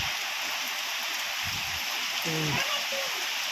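Rain falls in a village as a steady, dense wash of noise under a few brief low sounds, with a short voice-like tone near the end.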